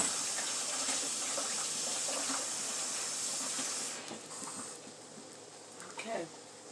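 A kitchen tap runs in a steady hissing stream as an egg is rinsed, the flow easing off partway through, with faint handling sounds near the end.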